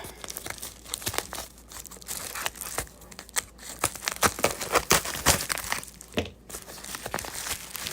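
Packing tape is torn and peeled off a parcel in close, loud bursts of ripping and crinkling that run on almost without pause.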